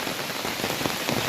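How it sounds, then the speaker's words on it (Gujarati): Rain falling steadily on surfaces outdoors, a dense close patter of drops with no voices. "વરસાદ છો ચાલુ ભાઈ"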